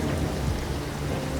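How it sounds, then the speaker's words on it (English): Rain falls steadily outside, a dense soft patter with a low rumbling undertone, constant and moderately quiet for the whole short moment, with no voices. "it's raining outside."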